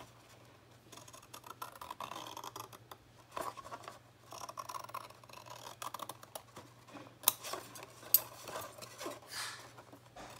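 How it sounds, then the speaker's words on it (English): Scissors snip through leftover paper scraps while trimming up to a scored fold line on a mini accordion folder, giving soft, close rasping cuts with a few sharper clicks and no talking. "we're just trimming right up to the 2-inch score line that we made"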